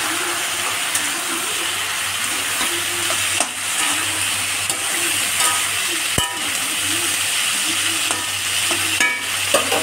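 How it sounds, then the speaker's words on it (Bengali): Prawns and onion sizzle in a pan with pieces of snake gourd, a steady frying hiss broken by repeated scrapes and clinks of stirring, close and fairly loud. "আমার পেঁয়াজ আর চিংড়ি মাছগুলো একটু ভাজা ভাজা হয়ে এসে এবার দিয়ে দেবো চিচিঙ্গে,"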